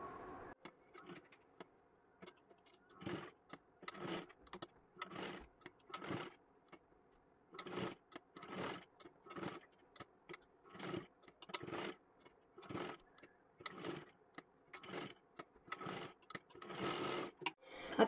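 Sewing machine stitching blouse fabric in repeated short bursts of mechanical whirring, each a second or so long, separated by brief pauses, quiet and close.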